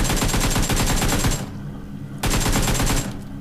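Rapid automatic gunfire from a battle royale video game, two loud sustained bursts of fast repeated shots separated by a short pause.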